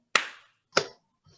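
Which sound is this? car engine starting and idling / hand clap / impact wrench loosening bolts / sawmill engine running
hand clap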